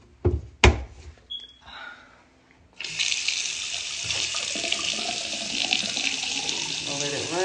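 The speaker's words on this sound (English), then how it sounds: "Let's turn the water back on." After a few knocks and clunks, a bathroom faucet is turned on and water runs steadily into a newly installed sink, a loud, close, continuous hiss and splash that carries on to the end.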